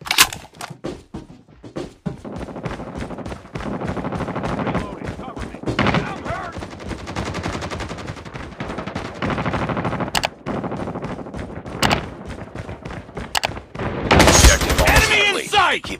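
Rapid machine-gun fire in Call of Duty: Mobile comes in loud, dense bursts separated by short pauses and scattered single shots, with battle voices mixed in.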